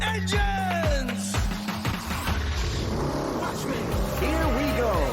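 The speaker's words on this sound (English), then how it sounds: "Drivers, start your engines!" Race car engines starting and revving at Five Flags Speedway for an SRX Series short-track race, several motors roaring and climbing in pitch together, loud and close, with a voice talking over them.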